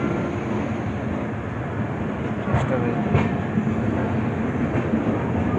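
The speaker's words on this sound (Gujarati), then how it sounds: "સામે જાય છે લોકશક્તિ એક્સપ્રેસના રેક" A Lokshakti Express rake passes at Ahmedabad with a steady, close rumble of rolling wagons and faint clickety-clack that holds through the clip, with a voice speaking briefly over it.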